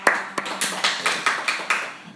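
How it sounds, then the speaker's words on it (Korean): A church congregation claps during a sermon, a steady run of sharp, evenly spaced claps at a brisk beat, fairly close and with no talking over it. "박수 한번 주세요."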